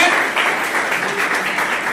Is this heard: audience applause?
yes